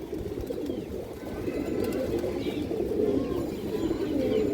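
Ornamental fancy pigeons coo softly and continuously, several low murmuring calls overlapping close by at a steady level, with faint chirps above.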